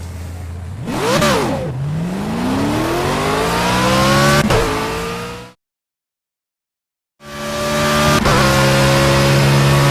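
Race car engine on a track in Project CARS, loud revving that climbs through the gears with sharp shift breaks, cuts to silence for a moment, then returns at a high steady roar.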